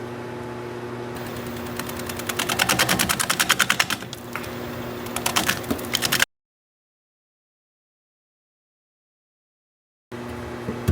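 A wood turning tool is sharpened on a grinder, a steady mechanical whir with rapid rattling bursts for several seconds, then abrupt silence before the motor noise returns.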